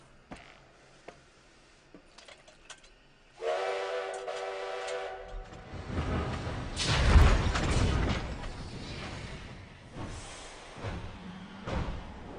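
A steam train whistle sounds a long, tonal blast, followed by loud rumbling and hissing of the train, with quieter clanks before and after.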